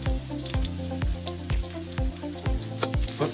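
Garlic sizzles as it is stir-fried in a pan for a Thai soy-sauce noodle stir-fry, with steady frying hiss and rhythmic thumps and scrapes roughly every half second; no voices.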